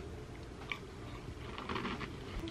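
Someone close up chews dry, crunchy pumpkin spice cereal, with soft crackly bites over faint background noise and no talking.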